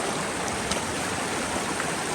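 Water rushes continuously through a gold sluice box, a loud, dense, broadband flowing roar with no pauses and no voices.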